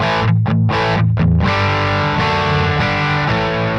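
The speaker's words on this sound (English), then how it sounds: "You can hear that fizziness up the top with it off." Buzzy, fizzy distorted electric guitar chords from a Sonicake Pocket Master ring out loud and sustained, the gritty saturated tone filling the upper range.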